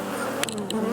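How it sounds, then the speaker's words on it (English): Honey bees hum steadily at a healthy beehive during an October inspection, a close, dense drone with a few sharper clicks from the hive woodwork. "It's a lot of bees, a healthy population of bees going into winter."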